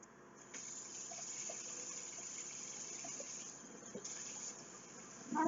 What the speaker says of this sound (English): Now to start off, we're going to put a little bit of water in here.